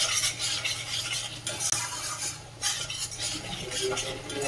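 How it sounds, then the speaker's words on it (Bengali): Spiced masala for a potato curry being stir-fried in a pan, a steady low sizzle under repeated scraping and stirring strokes from a spoon, fairly close and even throughout. "এখন আর একটু আবার কষে নেব।"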